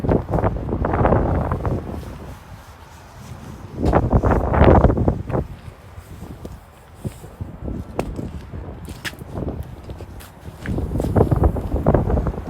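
Gusty wind buffets the microphone in loud, low rumbling bursts that rise and fall, with quieter stretches between gusts.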